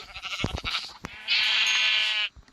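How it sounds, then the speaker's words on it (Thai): Two sheep give a loud, close, drawn-out bleat lasting about a second, with shorter vocal bursts and clatter around it. "มาเนี่ยเจ้าแกะ"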